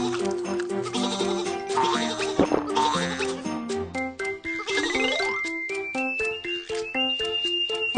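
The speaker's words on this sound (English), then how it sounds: "Some sheep are on the train track." Cartoonish sheep on a train track bleat over bright, bouncy music with chimes and tinkling notes.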